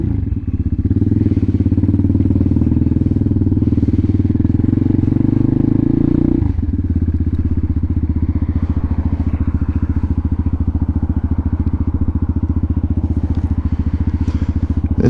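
A Honda Hawk 250 motorcycle being ridden, its engine a loud, steady throbbing drone close up that drops in pitch with a gear change partway through, then continues evenly with rough pulsing texture.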